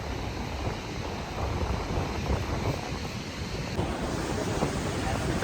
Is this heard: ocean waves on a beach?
yes